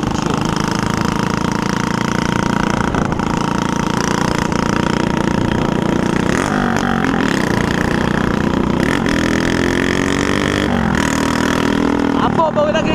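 A Honda CBX 250 Twister motorbike with a broken exhaust roars loudly and raggedly, revving up and down continuously, close by.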